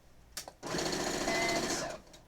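A sewing machine stitches quilt binding in a steady, fast mechanical whir that runs for about a second and a half, preceded by a couple of small clicks, close and fairly quiet.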